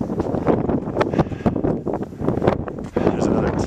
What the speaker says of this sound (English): the wind is very high this morning.